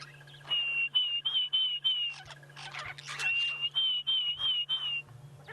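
A Diederik's cuckoo calling at sunrise in the Sabi Sand bush: repeated rising whistled phrases in two bursts, clear and fairly near over a steady low hum, with no talk.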